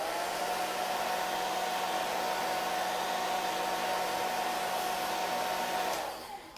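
A hair dryer blows on chalk ink stenciled onto a Christmas stocking, a loud, steady whirring drone that holds evenly, then cuts off and winds down just before the end.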